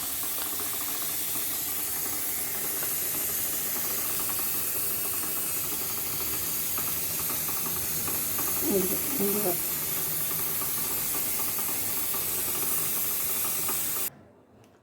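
Steam hissing steadily from a pressure cooker used for pumpkin curry, a continuous broad rush with a brief rattling flutter near the middle, cutting off abruptly at the end.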